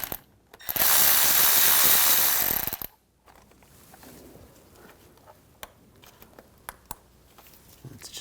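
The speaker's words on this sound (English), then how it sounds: "Using a T30 socket, take this bolt out." A hand ratchet with a T30 socket clicks as it loosens a bolt during a water pump replacement on a 2010-2014 Volkswagen GTI, giving a short loud burst of ratcheting followed by faint scattered ticks and taps.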